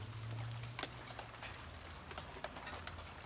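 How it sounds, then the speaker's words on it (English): Steady rain patters down with scattered drops tapping a surface, a continuous soft wash with a low hum underneath. "the skies just opened up and it started pouring rain on me."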